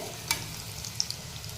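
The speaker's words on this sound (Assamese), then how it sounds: "এইবাৰ এখন এখনকৈ কেৰাহীত উঠাই দিম পিঠাকেইখন" Coconut pitha fry in oil in a kadai, a soft continuous sizzle with a couple of faint clinks and pops, low and close.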